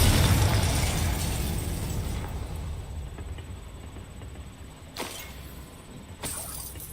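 A Confringo spell explosion in the video game Hogwarts Legacy opens with a loud blast whose roar slowly fades, followed by two sharper, smaller cracks near the end.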